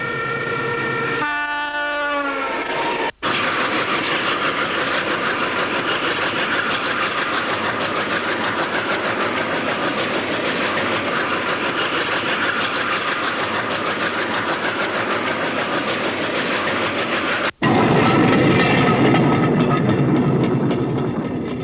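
A 2,800 horsepower diesel locomotive hauling a mile-long iron ore train in 1960s Western Australia, opening with a loud horn blast, then a steady heavy roar of engine and rolling wagons close by, continuous and loud.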